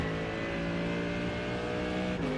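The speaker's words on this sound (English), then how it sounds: "you don't want to hear my engine sound" A GT3 race car engine in the iRacing sim at Catalunya drones steadily under load with a strong, buzzing tone, then dips in pitch near the end as if shifting or lifting off.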